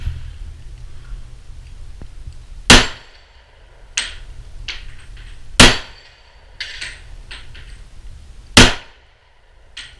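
Three sharp, loud handgun shots fired one-handed at steel targets outdoors, spaced a few seconds apart, with smaller metallic pings and clanks between them and a low steady background rumble.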